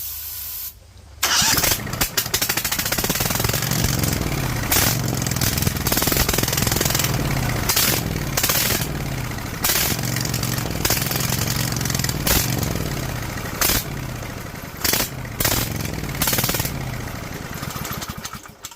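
A DuroMax XP23HPE generator engine cranks repeatedly after being dosed with starter fluid, giving loud, choppy starter bursts with brief pauses in between and never settling into a steady run.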